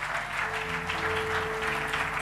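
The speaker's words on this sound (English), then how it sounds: "Come on, give yourself a round of applause." A church congregation applauds on the first Sunday of the year, a steady wash of many hands clapping close and loud throughout, with faint voices and a held tone underneath.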